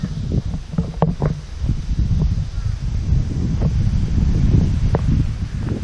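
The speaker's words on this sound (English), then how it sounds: "It's getting kind of windy." Strong wind from approaching Hurricane Dorian gusts steadily with a low, rumbling roar and buffets the microphone throughout, along with scattered rustling and knocks.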